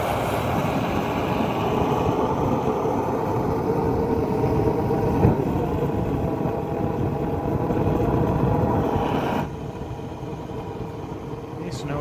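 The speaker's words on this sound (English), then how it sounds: "So we've got the push blower going" A push blower runs on a charcoal gasifier with a steady, loud mechanical whir and rumble, continuous close up, then dropping slightly in level near the end.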